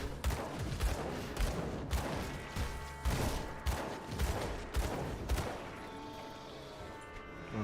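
Gunshots in the video game Warlord, a rapid series of loud, sharp shots fired in quick succession at an even rhythm, with no talk over them.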